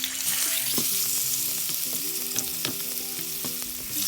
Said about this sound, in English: So we have our marinated fish, and I'm going to use canola oil.